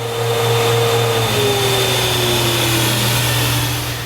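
An IMPACTS S210E-40R shot blaster runs on a floor with a steady, loud motor whine and a faint shifting tone, close and continuous, no voices.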